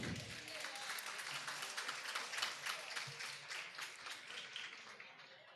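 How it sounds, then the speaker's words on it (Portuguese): Steady applause from an audience at a training course session, fairly faint and even, with many hands clapping together for several seconds and no one talking over it. "Salva de palmas, gente."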